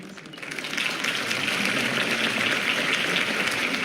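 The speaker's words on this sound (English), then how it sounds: "could have heard that applause" Video game applause: a crowd applauding, a dense wash of clapping that swells within the first second and then holds steady and loud.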